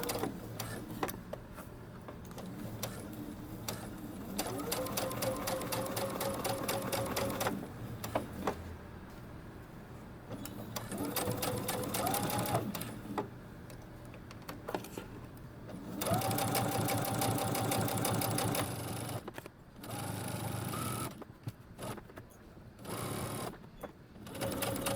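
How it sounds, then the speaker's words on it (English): A sewing machine stitches a 3/8-inch seam around a dress or top and up the collar band, its rapid motor chatter running in long loud bursts with short pauses and changes of speed, including brief backstitching at the start. "Now we're going to sew 3/8 of an inch seam allowance all the way around and up the collar band."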